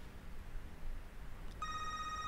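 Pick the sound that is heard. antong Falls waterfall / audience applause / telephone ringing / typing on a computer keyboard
telephone ringing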